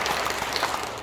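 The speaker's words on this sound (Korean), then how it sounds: "박수 한번 치세요." An audience claps together at a launch ceremony held in a large church hall, giving a steady, uniform burst of applause throughout a brief moment.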